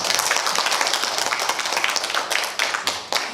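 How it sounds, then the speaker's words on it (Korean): An audience at a museum humanities lecture applauds to welcome the lecturer, a dense wash of many hands clapping steadily, with a few louder close claps standing out near the end. "박수로 인사 환영 부탁드리겠습니다"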